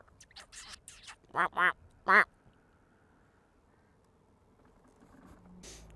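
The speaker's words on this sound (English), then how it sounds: "There is a duck in the road." A duck standing in a road gives several loud, close quacks in two quick bursts, followed by quiet outdoor ambience.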